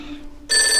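After a brief quiet moment, a telephone bell suddenly starts ringing loudly and continuously in a children's TV show.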